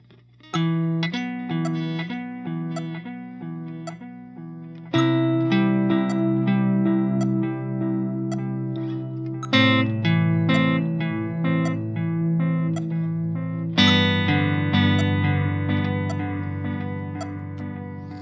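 Electric guitar notes played with a delay effect whose repeats fall out of time, creating smeared, overlapping echoes across several phrases.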